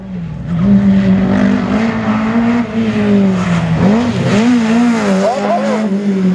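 A slalom race car at the 2018 Saint-Lô event revs past up close, its engine note rising and dipping through gear changes and throttle lifts, with brief tire squeal, while a commentator talks over it.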